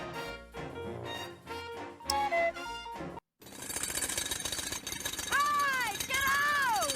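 A jackhammer hammers in loud rapid pulses, a dense rattling roar that runs continuously in the second half while a voice talks and wavers over it, after music-like tones earlier.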